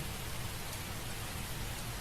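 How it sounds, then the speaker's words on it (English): Rain falls steadily in a soft, even hiss, with no other sounds standing out above the downpour. "It's kind of hard not to notice that it's raining."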